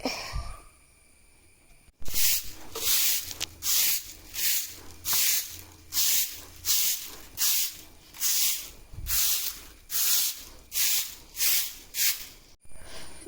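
A broom sweeps the packed-earth yard in front of a village house: a steady run of about eighteen rhythmic, close swishing strokes, each a short airy brush, with no voices.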